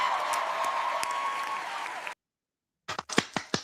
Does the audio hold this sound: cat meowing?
no